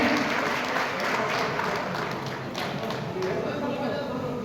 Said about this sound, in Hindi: पुनः तालियों से जोरदार स्वागत करें